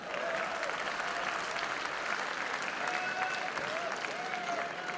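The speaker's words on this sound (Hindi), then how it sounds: "अब आपकी तालियां थमें" Steady applause from an audience at a mushaira poetry gathering, dense and even throughout, with a few faint whistles or cheers rising above the clapping.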